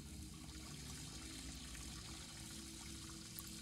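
Water running from a pipe in the horror game Graveyard Shift, a faint, steady trickling and pouring with no voices over it.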